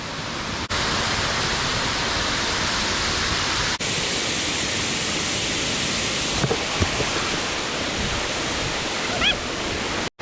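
Engkanto Falls in Bicol pours in a steady, loud broadband roar of falling water that fills the whole scene, with brief shifts in level as the listening position changes.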